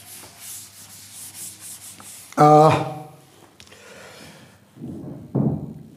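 Eraser rubbing a classroom board clean during a physics lecture: a loud burst of scrubbing strokes, then quieter rubbing, with a teacher's voice faintly around it.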